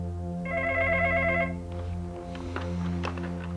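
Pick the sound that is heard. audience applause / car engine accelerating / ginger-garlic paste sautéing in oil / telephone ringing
telephone ringing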